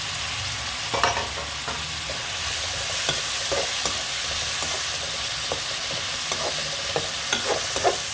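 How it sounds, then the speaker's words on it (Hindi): Onions browning in oil in a pan, being prepared for a bhindi chicken dish, give a steady broadband sizzle with repeated scraping stirs of a spoon throughout, close and fairly loud with no talking. "चार आपने प्याज ले लेने, इनको भी हमने अच्छे तरीके से ब्राउन कर लेना है।"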